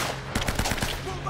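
Gunfire in the action game Uncharted Remastered: a rapid string of close automatic shots over a busy game soundtrack, lasting just over a second.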